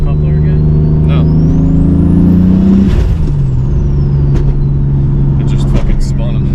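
A turbocharged BMW E46 at wide open throttle, a loud, close engine drone with a rising turbo whine that breaks off mid-clip, then settles to a lower steady rumble while people talk over it.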